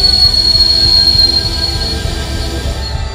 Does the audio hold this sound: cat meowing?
no